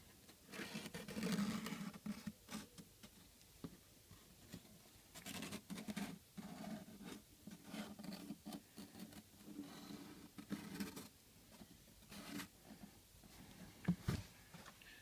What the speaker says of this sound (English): I'm going to put that underneath and just sketch around the outside.